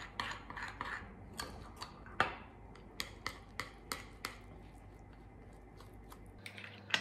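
A utensil mixes an egg and thick cream mixture in a bowl, with a series of close, light scraping clinks and taps in an irregular rhythm over soft background noise.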